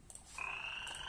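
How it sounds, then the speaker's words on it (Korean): A frog croak sound effect is played back by an educational robot kit, two short croaks at the start and a brief repeat near the end, faint and alone. "다시 블록으로 돌아와서 개구리 소리를 재생하는데"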